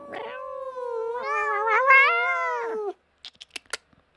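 A cat gives one long, loud, close meow with a rising and falling wail, then several short faint knocks and clicks after it stops.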